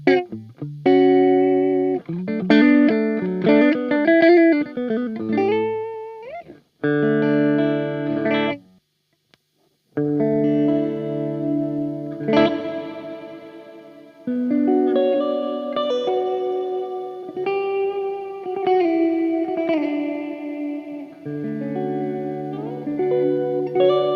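Dreadbox Darkness reverb pedal in its clean light mode with no darkness added, carrying sustained melodic notes and chords with lush reverb tails, loud and alone, with a brief silent gap partway through.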